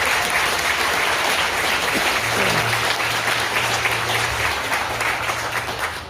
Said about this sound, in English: They deserve a little round of applause too.